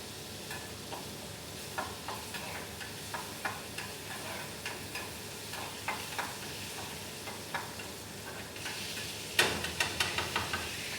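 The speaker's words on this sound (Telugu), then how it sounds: "చేపలు అయితే ఫ్రై చేస్తున్నాను" Fish frying in oil in a pan, a steady close sizzle punctuated by regular light taps and scrapes of a utensil, with a louder clatter of several knocks near the end.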